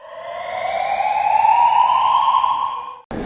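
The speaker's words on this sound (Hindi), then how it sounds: "This is alarm hooter. ये साउंडर है।" Fire alarm hooter sounder in an apartment building, a loud close electronic wail rising slowly in pitch for about three seconds before cutting off abruptly.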